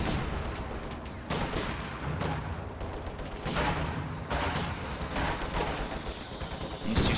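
Heavy mortar and gunfire in a video game battle, squads fighting for a central victory point: dense, continuous rumbling bursts of shots and impacts, loud and steady throughout with no talk.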